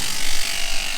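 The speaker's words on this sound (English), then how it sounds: "we're just gonna shave this one's back because he's all sweaty" Electric clippers shave the back of a sweaty farm animal, giving a steady, loud, close buzzing hum that runs through the whole brief moment with no talk.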